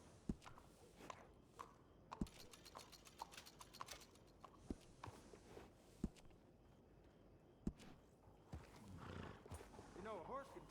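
In the Red Dead Redemption 2 video game, a horse clip-clops in sharp, irregular hoof strikes with snorts and a whinny, while people talk throughout; the sound stays quiet overall.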